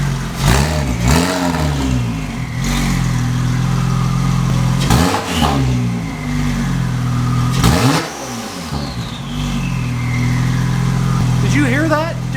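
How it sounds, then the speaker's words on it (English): A Porsche 996 Turbo with a titanium exhaust revs in several sharp bursts over a loud idling rumble, turbo whooshes and whistles trailing each rev, with a person talking close by. "Dude, the turbo noises are insane."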